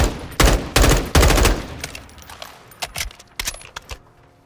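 Gunfire in the Call of Duty: Modern Warfare II campaign, a few loud, close shots in quick succession, then quieter scattered shots and tinkling fading out, no talking.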